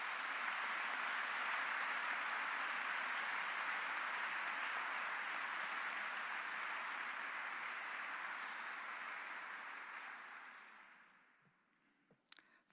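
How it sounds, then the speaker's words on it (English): Audience at a computer science spring diploma ceremony gives a long, steady round of applause, dense crowd clapping that holds for about ten seconds then tapers away to a few scattered claps. "You can give them all a huge round of applause at this point in time."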